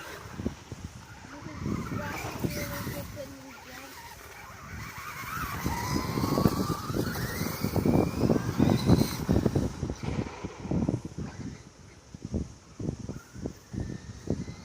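The small motor of a Hobbyking Basher BZ-222 RC car whines and buzzes in bursts, with rapid rhythmic rustling and thumping as it pushes through long grass, fairly close.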